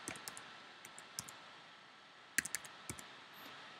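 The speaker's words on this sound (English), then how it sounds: "so I'm just going to type that in." Faint, sparse clicks from a computer keyboard as a password is typed, a few light isolated keystrokes with a short quick cluster near the middle, over a quiet room hum.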